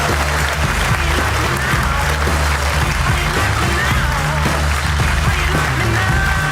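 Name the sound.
studio guests applauding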